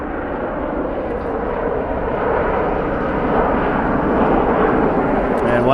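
A Southwest Airlines airplane at Columbus Glenn Airport gives off a broad, steady jet roar that swells gradually over the clip, loud and continuous without speech.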